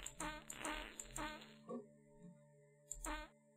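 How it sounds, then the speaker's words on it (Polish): Several short, comic fart noises from the Rusty Lake Hotel video game, heard close and faint over a quiet background tone with a pause between them. "No jak klikam, to tam pierdzi chyba za tym."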